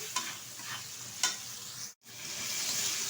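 Spices sauté in a pan for a soybean and potato curry, a dense continuous sizzle with a couple of sharp stirring scrapes and a brief dropout near the middle before the frying hiss swells again, close and without talk.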